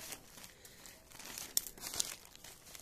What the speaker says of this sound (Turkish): Şöyle ürünümüzü arkadaşlar kargo kutusundan çıkarıyoruz